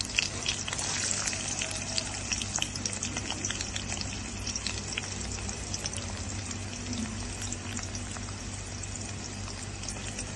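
Chopped onions and green chillies frying in a pan of oil with cumin seeds for khichdi, a steady close hiss and crackle with scattered sharp pops, continuous at a moderate level with no talking.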